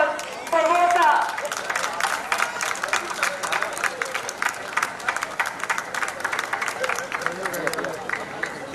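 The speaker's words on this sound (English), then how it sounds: "A big round of applause for VOSA." Audience at a class reunion breaks into dense, continuous hand clapping that fills the whole stretch, with a short burst of voices and cheering near the start and crowd murmur underneath.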